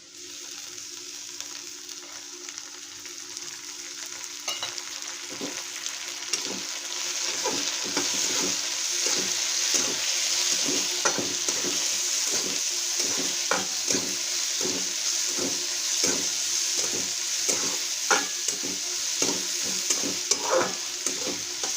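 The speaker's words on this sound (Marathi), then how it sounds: "जरा शेंगदाणे भाजले मग त्यामध्ये आपण टोमॅटो टाकून घेऊया" Peanuts and tomatoes roasting in oil in a pan, sizzling steadily while a spoon stirs and scrapes in quick, regular strokes that pick up and keep a busy rhythm, heard close.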